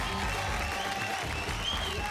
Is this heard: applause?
yes